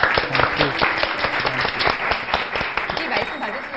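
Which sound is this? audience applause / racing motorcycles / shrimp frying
audience applause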